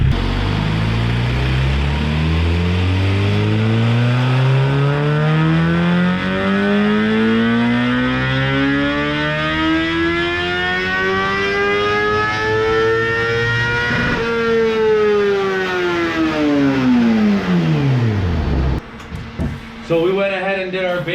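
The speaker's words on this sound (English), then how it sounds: "So we went ahead and did our base pull. That's our full throttle base pull." A Suzuki Gixxer 750 motorcycle engine on a dyno at full throttle, a loud continuous wail sweeping steadily upward in pitch for about fourteen seconds before dropping back down and cutting off, with a short burst of other noise at the end.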